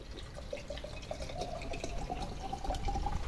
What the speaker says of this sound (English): And let's put our water in there.